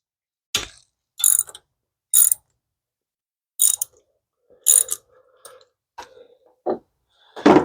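A hand ratchet loosens the timing belt tensioner bolt on a Dodge Dart 1.4L engine, with several separate bursts of clicking pawl strokes and small metallic clinks between them, close and clear with no talking.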